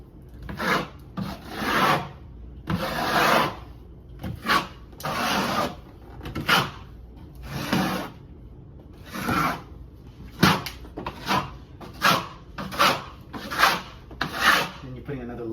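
Drywall compound spread over a wall patch with a knife or trowel for a second layer: repeated rasping, scraping strokes in a steady rhythm, close and moderately loud, with no talk.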